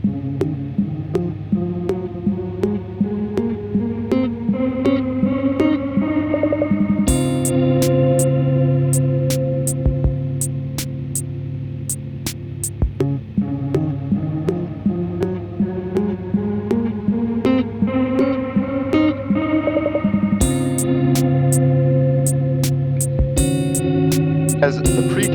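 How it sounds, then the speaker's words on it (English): Electric guitar through a PT2399 chip echo feeding a Belton Brick reverb pedal, playing rising and falling melodic lines with a long, dreamy wash of repeats and reverb tails, plus occasional bright pick attacks. "you're kind of using that as a pre-delay before it hits the Belton Brick"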